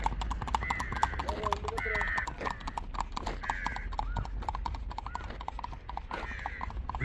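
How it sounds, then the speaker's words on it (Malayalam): Horse hooves clip-clop steadily at a moderate distance from two horses being ridden near Ooty, while someone talks over them. "അങ്ങ് ദൂരേന്ന് രണ്ട് കുതിര സവാരി ചെയ്യുന്ന ആൾക്കാർ"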